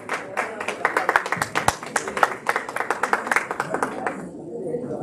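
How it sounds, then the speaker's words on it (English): Applause for a postdoctoral fellow at a university music event, a small crowd clapping in scattered, uneven bursts for about four seconds before thinning out, with some murmuring underneath. "Please give him a big round of applause."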